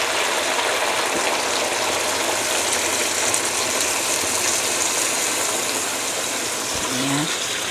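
Water pours and gushes into a pot of Filipino pinakbet as it cooks, a loud, continuous splashing rush close by, with a faint voice near the end.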